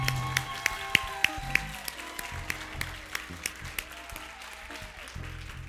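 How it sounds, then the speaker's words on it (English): Church congregation at a midweek service clapping for someone called up front, a scattered, uneven patter of hands that thins and softens over several seconds while a voice speaks over it. "Stand up for him and clap real big for him."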